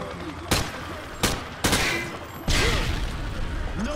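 Frag grenades thrown down a firing range in Call of Duty Modern Warfare 2 detonate in a series of loud, sharp blasts, four explosions within a few seconds, the last rolling into a longer rumble.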